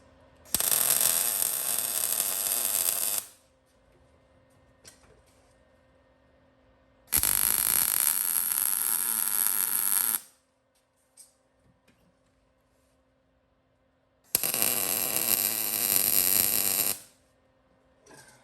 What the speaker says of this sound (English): we're gonna tack our pieces up. Give them some good tacks.